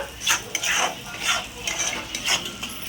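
A spoon scrapes and clatters against a pan while masala for a prawn curry is stirred until the oil separates, coming in about five quick, uneven bursts of metallic scraping close by, with no talking.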